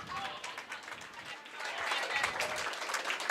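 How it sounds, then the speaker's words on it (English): Applause and clapping spread through a curling venue at a college national championship quarterfinal as teams leave the ice, a dense patter of hands that swells toward the end, with faint crowd murmur. "Lots of clapping in order."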